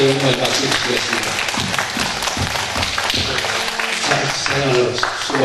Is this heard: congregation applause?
yes